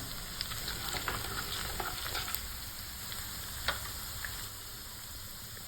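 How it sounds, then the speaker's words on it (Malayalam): Garlic and onions fry in a pan for a Kerala-style chicken curry, giving a steady close sizzle with faint crackles and an occasional stir, with no voices. "വെളുത്തുള്ളിയും ചെറുതായിട്ട് മൂത്ത് വന്നിട്ടുണ്ട്"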